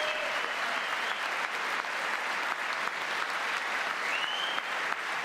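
Sustained applause from a large audience at a Congress address, steady dense clapping that holds evenly throughout at a moderate distance, with faint crowd murmur and no talk.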